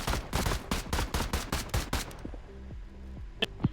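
Rapid volley of gunshots, around a dozen sharp loud cracks in quick irregular succession over two seconds, followed by quieter tonal sounds and a final isolated report.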